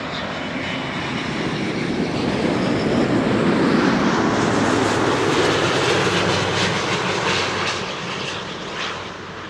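Engines of a Thai Airways Airbus A350 airliner at Amsterdam Schiphol Airport roar loudly and steadily, swelling toward the middle and easing slightly near the end, with no voices over it.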